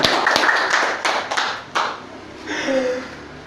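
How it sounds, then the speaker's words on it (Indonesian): A small group claps hands for a few seconds in an indoor talk-show setting, the sharp patter dense at first, then thinning into a few scattered claps and fading. "Tepuk tangan"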